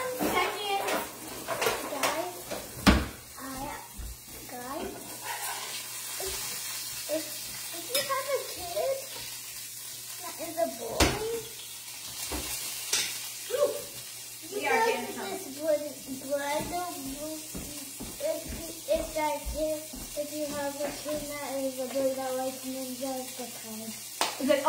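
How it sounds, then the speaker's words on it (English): An avocado burger sizzles steadily in a hot pan while utensils clink and scrape, with a child and an adult talking over the frying. "I gotta go flip this burger"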